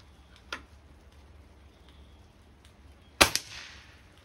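A Norica Dream Hunter .22 air rifle is fired at pop can targets 20 yards away, with a faint early click followed by a single sharp, loud crack and a brief ringing tail.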